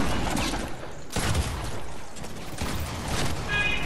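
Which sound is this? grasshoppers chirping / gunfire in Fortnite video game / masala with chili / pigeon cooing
gunfire in Fortnite video game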